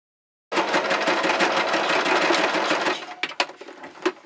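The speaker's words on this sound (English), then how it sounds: "I'm now ready to sew the pleats in place." A sewing machine stitches pleats into an early Victorian 1840s skirt, a close, loud, fast steady whirr that starts abruptly and then breaks into a few short bursts and clicks.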